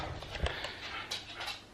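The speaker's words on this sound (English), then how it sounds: "Daisy Dog's getting all stressed." A stressed dog whimpers softly in a few short, faint whines amid low background rumble, with no one talking.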